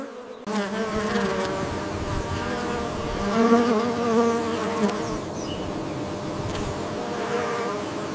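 Honeybees buzzing among red ginger flowers in a Hawaiian tropical setting, a steady, close, continuous drone with slight swells in loudness and no voices.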